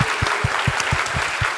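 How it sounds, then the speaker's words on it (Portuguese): A small group claps for a teacher, a quick, close, rhythmic patter of hand claps lasting about a second and a half. "E salva de palmas pra professora."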